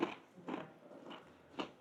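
Crisp pastry with a pesto filling, served alongside salted butter topped with salt flakes in a restaurant, being bitten into: a few soft, close crunchy bites spaced apart, with no talk.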